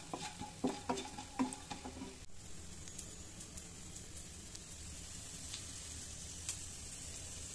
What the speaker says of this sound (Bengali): দেখুন অল্প তেলে বড়িগুলো কিন্তু ভাজা হয়ে যাবে